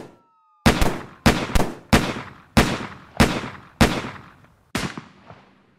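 Gunfire exchanged between police and two teenage shooters in a school: seven sharp, loud gunshots in an irregular sequence, each with a ringing decay, alone with no voices.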